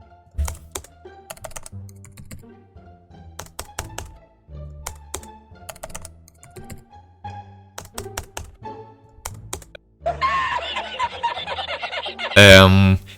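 Typing on an Akko 3087 computer keyboard, with bursts of crisp, close key clicks in an irregular rhythm, followed by a louder stretch of mixed noise and voice toward the end.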